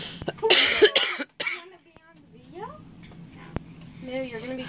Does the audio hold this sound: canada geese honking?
no